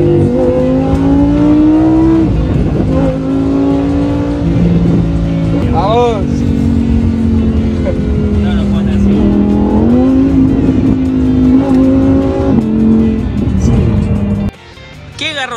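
A Lamborghini sports car accelerates hard, its engine revving loudly and climbing through gears with rising and falling pitch, close and dominant throughout, then cutting off abruptly near the end.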